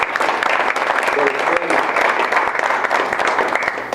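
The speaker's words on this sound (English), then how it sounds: "let's give Fred a round of applause as he comes forward" Dense audience applause at a community award luncheon for a long-serving committee member walking up, a loud steady patter of many hands with a voice briefly speaking over it.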